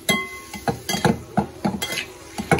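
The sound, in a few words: mixing the potato filling for batata vada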